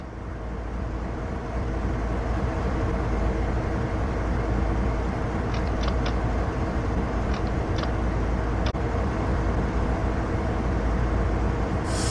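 Train Sim World 3 locomotive pulling away after the independent brake is released: a steady, loud rolling rumble and mechanical drone fill the whole stretch, with a few brief, faint clicks partway through.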